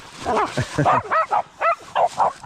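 Dogs in a forest during a mushroom-hunting walk, giving a series of short, close barks and yips in an uneven rhythm, loud and distinct, with a person's voice blending in.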